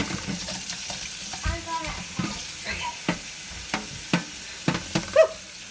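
Cold water runs from a kitchen tap in a steady wash while shrimp scampi pasta is being made, with scattered clinks and taps of utensils and a faint sizzle nearby.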